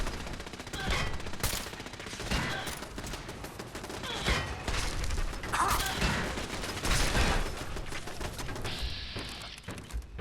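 Turret gunfire in Fallout 4 rattles out as dense, continuous bursts of shots with mechanical clatter and thuds, loud and close throughout.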